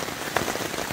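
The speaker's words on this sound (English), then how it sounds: "it is pouring rain" Pouring rain hammers down around a trail shelter on the Appalachian Trail, a close, even roar of drops with no pauses.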